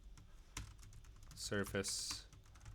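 Typing on a computer keyboard while writing C++ code, a run of quick clicky keystrokes with a louder burst of presses near the end, under brief speech.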